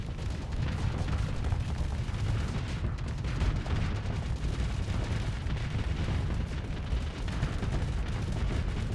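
Weapons fire in the space combat game Starsector as torpedoes launch, a dense, continuous roar of blasts and rumbling impacts that stays loud and steady throughout, with no voices.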